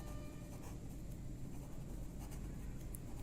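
Chalk or marker scratches steadily across a classroom board during a lesson on reinforced concrete, a soft continuous rubbing under a constant low hum, with no voice.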